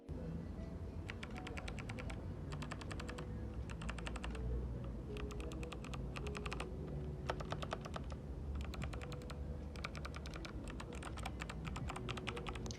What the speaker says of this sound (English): The Box white switches are loud and proud, making a sharp but very pleasant clicking sound every time you press them.